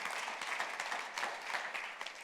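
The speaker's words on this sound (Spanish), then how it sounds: "Le das resurrection. aplauso fuerte." Church congregation applause, dense clapping from a crowd at moderate distance, steady and fairly soft throughout the short burst.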